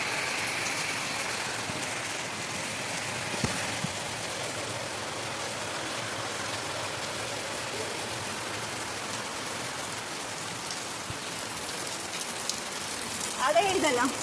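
Monsoon rain falls steadily at the Sri Karinjeshwara temple, an even hiss of drops on surfaces with a few soft knocks and a brief stir near the end.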